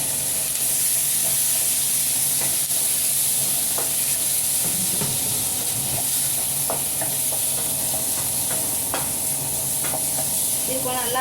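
Tomato sautés in a pan for a pomfret coconut fish curry, giving a steady close hiss of frying with occasional light stirring scrapes.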